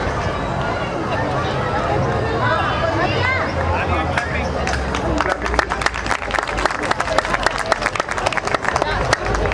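An audience welcomes a child's singing performance at an Ambedkar Jayanti gathering: crowd murmur and a voice give way midway to dense, lively clapping that builds and carries on to the end.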